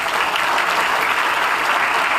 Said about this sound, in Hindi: उनके लिए जोरदार ताली बजाए